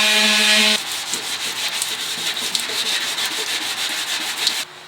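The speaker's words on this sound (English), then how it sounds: "I think I'm going to take the sander to that one, see if I can't grind that down pretty flat." A power sander works a motorcycle gas tank in a garage, a close, steady abrasive rubbing that starts abruptly after a brief motor whine and runs for about four seconds before stopping.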